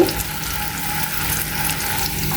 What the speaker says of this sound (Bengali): বেগুন ভাজতেছি আর হলো আমি টেলে নিচ্ছি